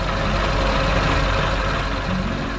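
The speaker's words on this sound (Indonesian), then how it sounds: "Truk biru sedang membawa pohon raksasa yang besar." A blue cartoon truck hauling a giant tree on a farm gives a steady, loud engine rumble that holds unbroken throughout, with no voices.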